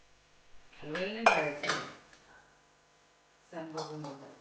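Metallic clanks and scrapes of a large, heavy kadhai being handled, two clusters of clatter separated by a quiet pause.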